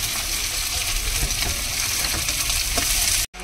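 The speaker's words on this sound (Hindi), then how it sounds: "प्याज और मिर्च डाल दी हमने दोनों साथ में ही" Onion and green chili frying together in hot oil in a cooking pot inside a truck, a loud, dense crackling sizzle with occasional stirring, close up and continuous before cutting off abruptly near the end.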